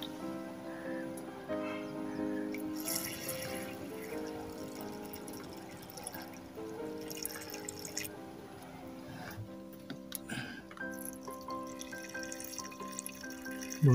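Distilled water being poured to refill a low car battery cell: soft trickling and dripping, fairly quiet and close, going on steadily with a few louder splashes and clicks near the end.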